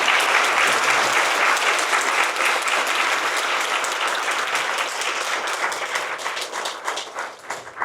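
At a university college's 50th anniversary ceremony, a large audience in a hall gives the honoured former deans a long round of applause. The dense clapping is thick and continuous, then thins slightly toward the end.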